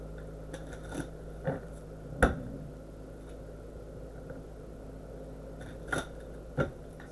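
Tarot cards are shuffled in a few scattered, soft, dry flicks and riffles, with one sharper snap near the middle, over a faint quiet background.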